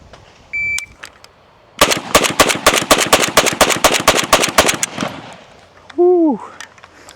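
A Zastava M92 fires GROM ammunition in a fast burst of sharp, loud reports in quick succession, followed by a short mechanical clack and a brief whistle-like tone afterward.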